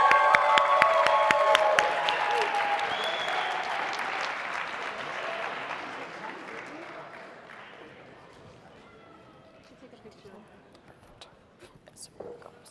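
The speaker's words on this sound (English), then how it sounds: "we're going to do a round of applause for our Audience Choice Award winner" Loud applause from an audience at an entrepreneurship competition award announcement, dense clapping that gradually fades away over several seconds, with a few scattered claps at the end.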